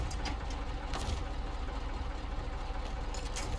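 A truck with a broken engine in SnowRunner rumbling at idle, a steady low, knocking drone held close and constant throughout, with no one talking.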